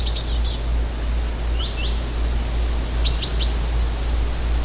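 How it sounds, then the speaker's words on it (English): Small birds chirping outdoors: a few short, high, sweeping tweets in quick clusters, separated by pauses, over a steady low hum and broadband background hiss, with no talking. "No talking, birds chirping."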